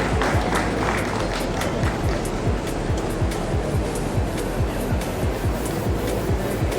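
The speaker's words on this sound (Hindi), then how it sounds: "कृपया आप तालियां बजाकर सभी वरिष्ठ जनों का सम्मान करते रहें" An audience claps steadily to honour senior citizens at a ceremony: dense, continuous applause with a low rumble underneath, filling the whole stretch without a pause.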